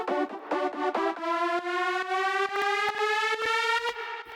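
A bright synth lead plays a repeating electronic phrase whose pitch climbs slowly through the run. Sharp rhythmic hits land over it, and the whole sound is loud and siren-like in a build-up for dance music.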